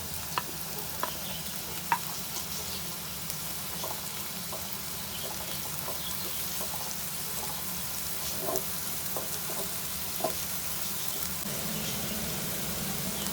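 Sliced onions and white cumin seeds fry in a pan for an onion paratha, giving a soft, steady sizzle. Occasional small pops and light stirring clicks break the hiss, with no voices.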